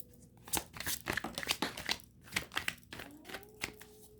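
Tarot cards are shuffled by hand, a string of quick crisp riffles and slaps with uneven rhythm, close and fairly quiet, with a faint hum in the background.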